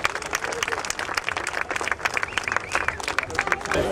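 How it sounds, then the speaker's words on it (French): Crowd applauding at an aerobatic paragliding demonstration at the Coupe Icare festival, a broad steady wash of clapping with a few nearby voices mixed in, continuous for the whole stretch. "il faut hésiter à les applaudir bien fort"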